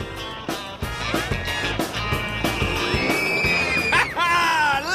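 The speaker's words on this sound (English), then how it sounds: "Listen to those kids scream!" Excited shrieks and high-pitched yells from a crowd of kids, loud and continuous, with rising squeals mixed in with general chatter.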